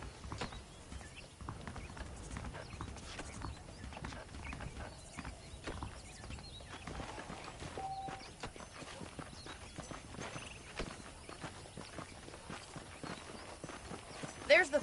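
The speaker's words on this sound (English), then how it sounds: "The horses are saddled up over here." Saddled horses in Red Dead Redemption on PS4 Pro clip-clopping along at a steady walking pace, quiet hoofbeats in a regular rhythm with faint background ambience.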